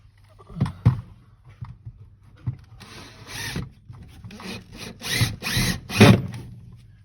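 A power drill drives screws straight down through a downstairs toilet into the bottom wood, heard as several short whirring bursts of varying length, close and fairly loud, with quiet handling knocks between them.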